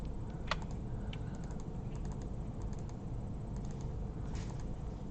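Keyboard keys and a mouse clicking in quick clusters, with double clicks while a key is held down, close and crisp over a steady background hiss, with no voices.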